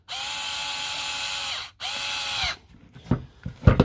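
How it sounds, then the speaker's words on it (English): A cordless drill or driver sinks a long screw into a damaged Milwaukee M18 5Ah battery pack casing, with two sustained whirring runs separated by a brief pause, followed by clicks and handling knocks close to the microphone. "If I drive the long screw up here, it'll hold this end on"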